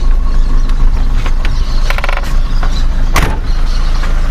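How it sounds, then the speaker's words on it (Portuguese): A 1985/86 Chevrolet Monza Hatch SL/E 1.8 engine with about 200,000 km idles with the choke pushed fully in, a steady close mechanical churn with light ticking and a few sharper clicks and rattles. "Agora a marcha lenta dele está estabilizando."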